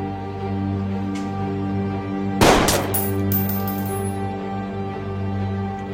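In a TV drama scene, one sharp, loud gunshot rings out, followed by a couple of fainter cracks, all set over a steady, sustained music bed.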